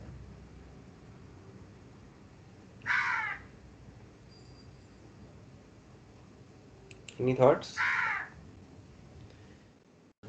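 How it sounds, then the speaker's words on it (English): A crow caws outdoors behind a voice, giving a few harsh caws in two bursts, one single and then a quick double, fairly distant but clear, while a person talks briefly. "Crow is giving some background music."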